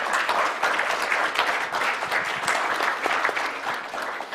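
An audience at a climate change conference applauds the panelists, a sustained full-room clatter of many hands, steady and moderately loud, with no one speaking over it.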